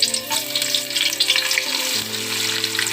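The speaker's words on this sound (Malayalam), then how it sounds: "എണ്ണ നന്നായി ചൂടായി വന്നിട്ടുണ്ട്. അതിലോട്ട് അരിഞ്ഞു വെച്ച ഉള്ളി ചേർത്ത് നന്നായിട്ട് വഴറ്റിയെടുക്കണം." Chopped onion sizzling in hot oil for a Kerala-style mutton curry, a steady bright crackle with some stirring, close and continuous, with a low tonal hum running underneath.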